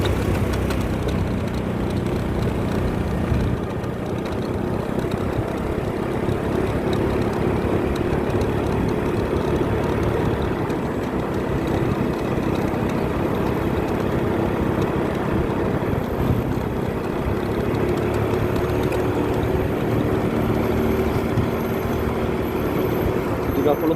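A motorcycle engine runs steadily throughout, a continuous low rumble mixed with road and wind noise, fairly loud and close.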